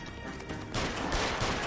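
Gunfire in the crime video game L.A. Noire, a dense burst of overlapping shots that swells after a brief quieter lead-in and keeps cracking loudly to the end.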